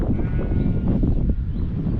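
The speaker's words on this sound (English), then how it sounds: "they move a flock of sheep" Many sheep bleat at once nearby on the South West Coast Path in England, a loud, overlapping chorus of calls from a moving flock with constant shuffling and movement underneath.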